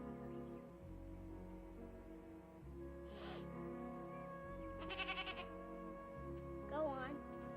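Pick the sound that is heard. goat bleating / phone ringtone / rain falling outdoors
goat bleating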